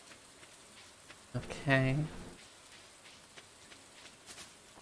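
Rain falling steadily in the farming game Stardew Valley, a soft continuous patter throughout, with a brief spoken word breaking in near the middle.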